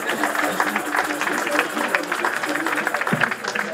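Crowd applause at an outdoor May Day rally in Berlin, welcoming the next speaker: a steady patter of many hands clapping, moderately loud, with scattered voices and cheers mixed in.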